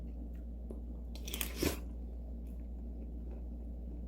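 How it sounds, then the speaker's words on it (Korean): A single crisp bite into a diet walnut cake (hodu gwaja), a brief crunch with soft chewing in a quiet room, no talking. "이제 가장 궁금해하실 호두 과자 호두 과자 한번 맛 봐볼게요"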